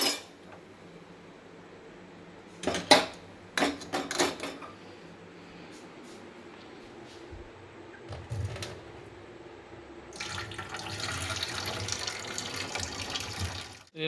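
Water pours out as boiled noodles are drained at home, with a few clattering knocks of a pot first, then a steady rushing stream near the end, close by and without talk.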